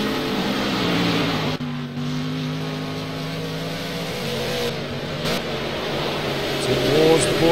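Cadillac and Ginetta race cars in the Project CARS video game at Le Mans roar loudly and continuously, engine tones climbing and shifting through gears as they accelerate out of a corner.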